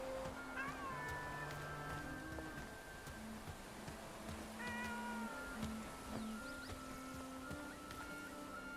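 A cat meows several times in a video game, a series of short, tonal calls heard faintly against ambient game sound and a soft musical background, with no talk.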